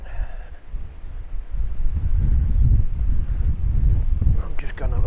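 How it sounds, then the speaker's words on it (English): Wind buffeting outdoors beside a house, a loud low rumbling roar against the microphone that swells and holds for several seconds, with a brief voice near the end. "As soon as I come past the side of the house, back in the wind again."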